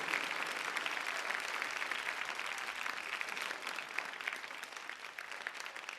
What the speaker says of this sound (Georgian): აპლოდისმენტებით